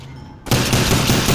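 Rapid gunfire at zombies in an older Call of Duty Zombies round, a loud burst of closely spaced shots starting abruptly after a brief quiet moment.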